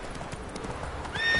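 A horse in The Witcher III video game gallops with quick hoofbeats, then gives a short, bright whinny near the end.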